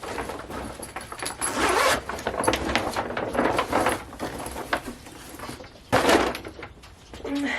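The zipper on the door of a small one-metre-square grow tent is pulled open in rough, rasping strokes, with fabric rustling and a louder zip burst near the end.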